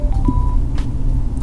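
Sena 30K Bluetooth motorcycle communicator giving its power-on chime, a short rising electronic tone heard up close over a steady low background hum.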